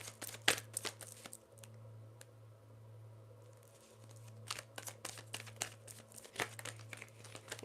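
Tarot and oracle cards are shuffled by hand in short bursts of soft crinkling and flicking, quiet and close, with pauses between.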